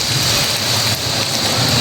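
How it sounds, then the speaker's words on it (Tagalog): Heavy rain pours down steadily and loudly during a downpour, roughly hissing on surfaces near a waiting shed, with no talking. "ang lakas po ng ulan"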